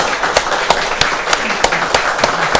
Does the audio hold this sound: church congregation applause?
yes